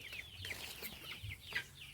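Crossbreed chickens on a farm cluck softly in short, scattered calls, with faint farmyard background noise.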